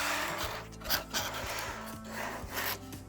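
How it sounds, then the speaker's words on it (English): A screw being worked loose from the cardboard packaging of a boxed 1:24 diecast 2017 Corvette Grand Sport, heard as close, dry scraping and rubbing strokes in a short uneven rhythm with no talking. "So we're gonna unscrew it from here."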